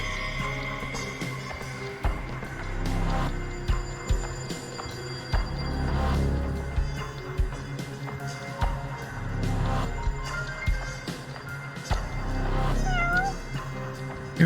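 A cat meows repeatedly near a cat cafe in the PS5 game Judgment, the calls clear and close over steady in-game music and ambience, with a pair of distinct meows near the end.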